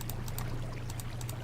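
Flowing water stream in the video game Minecraft, a quiet continuous pouring trickle with a low steady hum beneath and faint repeated ticking.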